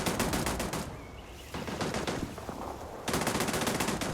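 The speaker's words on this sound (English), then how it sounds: "Sounds like a turret. Definitely a turret." Rapid bursts of turret gunfire in the sci-fi game Starfield, loud and dense automatic fire that breaks off, leaves a quieter stretch of scattered shots, then resumes in full.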